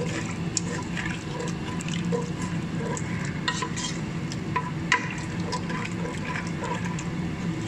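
Milk being stirred into flour in a pan for a white sauce for pasta, a steady wet swishing and scraping with occasional sharper clicks of the utensil, continuous and close with no voices.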